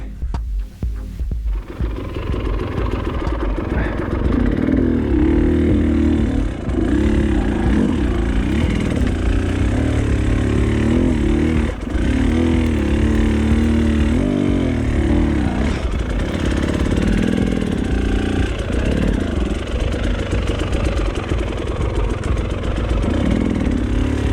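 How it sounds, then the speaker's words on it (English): Enduro motorcycle engine running steadily and loud throughout a hill climb, a throbbing mid-pitched drone with small surges in revs, close to the listener, with no talk over it. "We're just swapping bikes because Rod is slipping too much"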